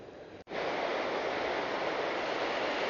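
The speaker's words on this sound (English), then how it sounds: "here's the river thundering down the other side of that weir" River water thunders down over a weir beside the I & M Canal near Channahon, a loud, steady roar of rushing water that swells in abruptly after a brief gap and holds constant.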